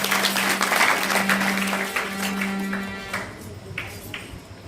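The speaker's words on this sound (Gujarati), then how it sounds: "બધાય તાળી વગાડો, જોરદાર તાળી વગાડો" An audience at a religious satsang gathering in a village claps together for several seconds, a dense burst of applause that gradually thins and fades out.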